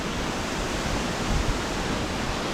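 A waterfall near Boquete, Panama pours in a steady, close, full-bodied roar of rushing water that holds without a break, with no voices over it.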